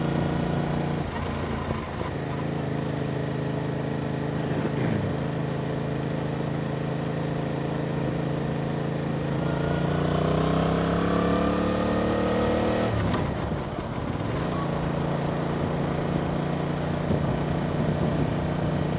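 Yamaha MT-07 motorcycle engine running steadily while riding, with a rising rev and gear-shift pattern partway through before settling back to a constant drone, close and loud, with no talking.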